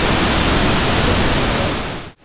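Cheonjiyeon waterfall on Jeju Island pours in a dense, steady roar of falling water heard up close, filling the whole clip evenly before cutting off abruptly near the end.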